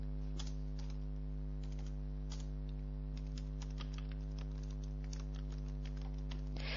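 Notes being typed on a computer keyboard, quick irregular key clicks close to the mic over a loud, constant electrical mains hum, with no speech.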